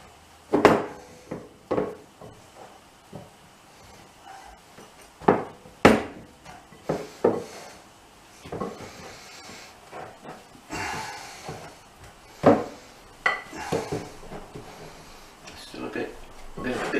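Keto bread dough being mixed in a small bowl, irregular scraping knocks and thuds of a utensil against the bowl at close range, interspersed with someone talking.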